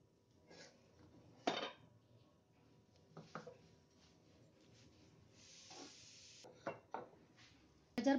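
Gajar bhat, a carrot rice dessert, is served into clay bowls with soft scraping and a few sharp clinks of a spoon against the earthenware, spaced out in a quiet room.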